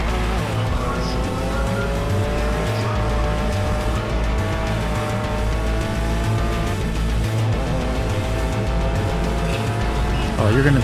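Racing cars in the Grid Legends video game, a steady loud engine roar with shifting pitch as cars overtake just ahead, plus a brief tire squeal at the end.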